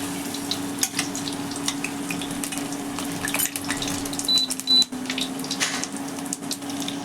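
Eggplant pakoras fry in hot oil over low heat, a steady soft sizzle with faint bubbling and a couple of brief clinks, with no voices.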